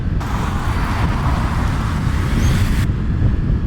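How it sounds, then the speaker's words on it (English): A car approaching on a road, heard as a steady broadband roadway rumble mixed with wind buffeting at the microphone of a Kawasaki Ninja 400 rider, holding constant for a few seconds with no talk. "now a fucking car's coming"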